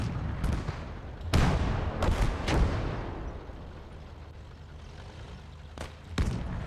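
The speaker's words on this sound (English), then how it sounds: "So we're going to move up with the 18-pounder firing, getting the guys out of the cover." An 18-pounder field gun in the Gates of Hell: Ostfront video game fires several loud, booming shots with long decaying rumbles, spaced irregularly over the battle ambience.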